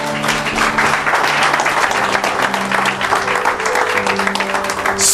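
A church congregation applauds the Lord with sustained, dense clapping that fills the whole stretch at steady volume, with faint music tones underneath.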